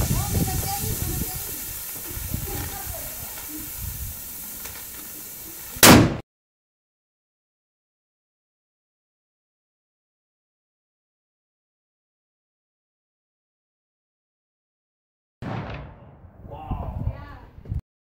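A taped firecracker blows apart a shaken Fanta can set on a chair: fizzing hiss and noise build up, then one sharp, loud blast, followed by a long silence before a voice begins speaking.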